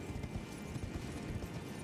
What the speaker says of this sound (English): Also, I can ride a horse in a cave.